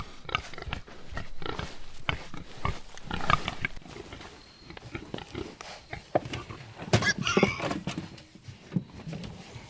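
Farm pigs being readied for a move grunt and squeal in close, uneven bursts, some loud and rough, with rustling between the calls.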